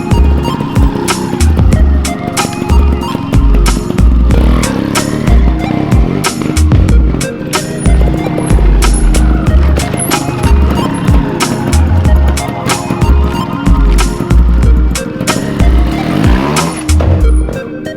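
Trial motorcycle working to shift its front wheel, with repeated short engine revs and bursts of throttle in an uneven rhythm, close and loud throughout without speech.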